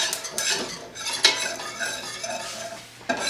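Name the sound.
metal whisk stirring in a pot for macaroni and cheese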